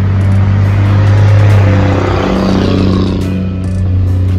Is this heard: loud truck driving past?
yes